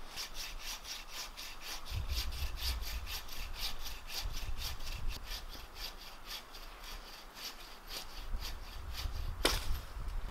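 Hand saw cutting dead pine logs at a winter bushcraft camp, a steady rhythmic rasp of back-and-forth strokes running continuously and fairly close, with a sharp knock near the end.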